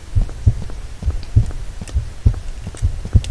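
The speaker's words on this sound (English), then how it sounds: "Sound of my heartbeat." A heartbeat sound effect thumps in the horror video game Illusion: Ghost Killer, a steady run of deep, muffled double beats about every half second, loud and close with a low hum beneath.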